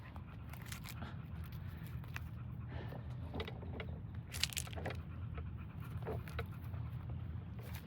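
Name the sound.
dog panting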